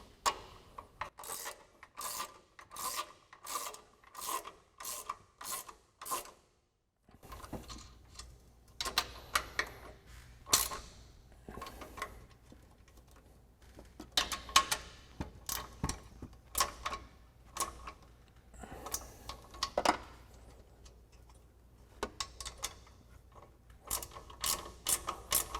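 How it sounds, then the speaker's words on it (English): A 15mm ratcheting wrench tightens strut nuts on a 2022-2024 Toyota Tundra during a suspension lift install, producing quiet bursts of rapid ratchet clicks separated by pauses, with some faint rubbing and handling noise. "take a 15mm ratcheting wrench to tighten down all of these nuts"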